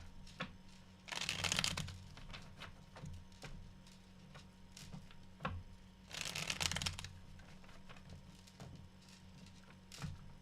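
Tarot cards are shuffled close up in two distinct bursts of rapid riffling, separated by quieter taps and slides of the deck, with no talking.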